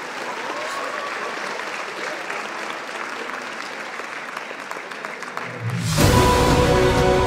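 An audience at a cosplay contest claps steadily and loudly, then a sudden loud burst of music or amplified sound cuts in near the end over the applause.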